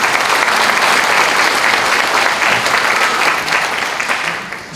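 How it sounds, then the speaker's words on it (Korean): Sustained applause from a large audience at a Busan ceremony marking the 72nd anniversary of the Korean War, dense and steady throughout, tapering slightly at the end. "다시 한번 큰 박수 보내드립니다."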